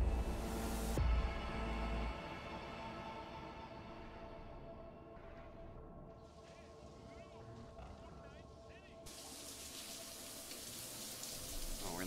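Steady hiss of shower water running in Cyberpunk 2077, a continuous broadband wash with faint game ambience and a low rumble, holding fairly even throughout.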